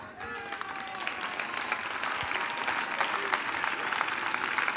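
An audience at a church prayer and intercession gathering claps and cheers continuously, with a dense, sustained wash of applause and scattered voices calling out through the crowd.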